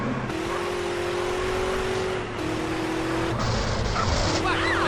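In the video game GTA San Andreas a car engine drones steadily with shifting pitch, a smoking car under gunfire, with a brief skid squeal toward the end and someone talking over it.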